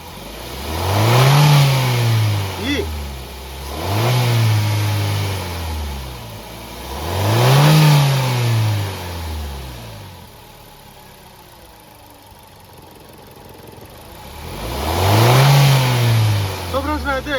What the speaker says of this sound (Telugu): సో మనం గేజ్ పూల్ అందిద్దాం, ఎక్సలరేటర్ ఇప్పిద్దాం, ఒకసారి చూసుకోవచ్చు.